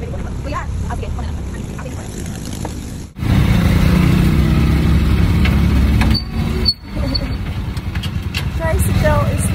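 A motorized tricycle engine revs and drones loudly nearby, with a sharp knock midway and children and adults talking over it.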